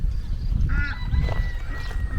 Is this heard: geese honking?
yes